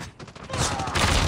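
Rapid gunfire from Call of Duty Mobile crackles in a dense burst that swells louder toward the end of a short moment of in-game combat.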